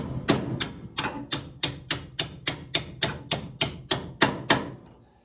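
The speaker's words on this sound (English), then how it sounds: "so I can give it a bit of hammer now." About a dozen evenly spaced hammer blows knock a part into place, each a sharp close impact ringing briefly before the next, the last fading out.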